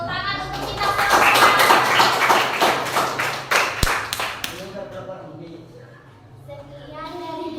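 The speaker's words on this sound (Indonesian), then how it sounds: "Tepuk tangan untuk kita semua." Classroom applause rises as a burst of brisk claps among students, mixed with voices and chatter, then fades as talk continues.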